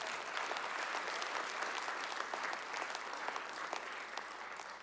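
A church congregation claps loudly and steadily for nearly five seconds during a Christmas-season sermon, a dense, even wash of many hands with no voices on top.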